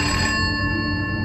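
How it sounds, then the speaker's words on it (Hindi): A landline phone rings inside an office cabin, its steady bright electronic tone sustained and loud throughout, close by with no one speaking. "तभी केबिन का लैंड फोन बजा।"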